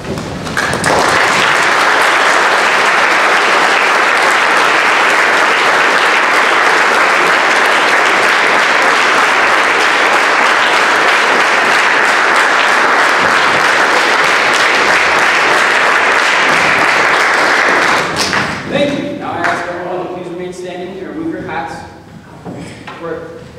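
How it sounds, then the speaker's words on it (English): Loud, sustained applause from a standing audience honoring living veterans at a military academy Veterans Day program, steady for about eighteen seconds before fading into scattered claps and murmuring voices. "please rise and join me in a round of applause in honor of our living veterans"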